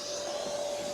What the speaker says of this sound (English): Festool vacuums, and I'm going to turn it to a higher vacuum